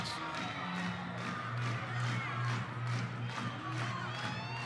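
Spectators at a Texas vs Baylor college softball game cheer and clap in a sustained, rising roar heard from within the stands, a broad steady crowd noise without pauses.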